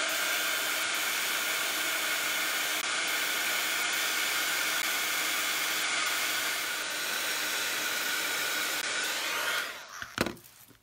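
A hair dryer blows steadily to dry paint on a mixed media art piece, a continuous close whooshing hiss that ends with a few brief knocks.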